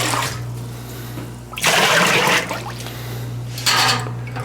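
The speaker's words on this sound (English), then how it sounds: "this is 75-degree water" Water at 75 degrees pouring during sour mash whiskey distillation and fermenting, two loud rushing bursts over a steady low hum, with quieter trickling between them.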